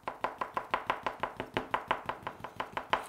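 A knife marks and cuts into a decorated cake. The blade strikes the board in a quick, even run of about eighteen crisp taps, close and fairly quiet, with no voice.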